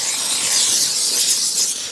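Steam cleaner blasting debris out of the double-layer seat rails of a BMW during cold-weather detailing, a steady loud close hiss that holds for two seconds with no talk.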